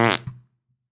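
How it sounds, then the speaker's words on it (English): A fart sound effect played back from a video: one short, loud, wet burst lasting under half a second, then silence. "He responded to me with the fart video."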